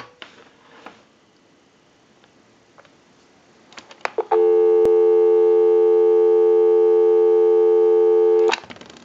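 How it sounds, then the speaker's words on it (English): A few clicks, then a steady, loud dial tone from a Western Electric 500 rotary dial telephone hums continuously for about four seconds before cutting off abruptly. "Go ahead and give you some dial tone."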